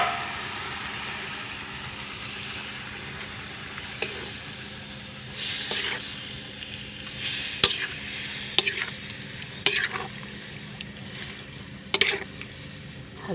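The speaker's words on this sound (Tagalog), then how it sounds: "Halo-halo hanggang sa matuyo." Squid adobo being stirred in a pan, with steady scraping and clinking from the spoon and a soft sizzle underneath, plus a few sharper knocks of utensil against metal spread across the stretch.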